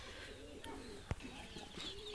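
A racing pigeon coos softly under steady outdoor background noise, a brief low call standing out once amid faint ambient hiss and distant bird sounds.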